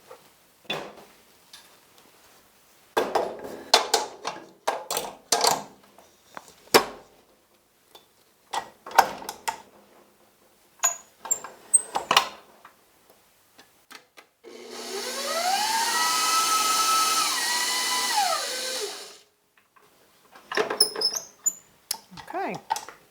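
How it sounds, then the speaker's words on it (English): A stand mixer whips Satin Ice buttercream icing in one loud, steady whirring burst of several seconds, with its pitch wavering, between clinks and taps of a whisk and bowl. "we're going to pop this back into the mixer"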